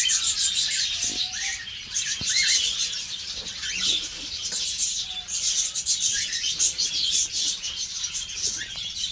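Small budgerigar chicks kept for sale chirp and tweet steadily through the whole stretch, a dense, busy chatter from several birds close by, with a few soft rustles and wing flaps underneath.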